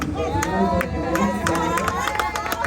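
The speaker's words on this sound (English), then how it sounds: "Let's give her a round of applause" A crowd at the launch of a resort and golf course gives a round of applause for a returning client, with quick, sharp claps and some cheering under a speaking voice.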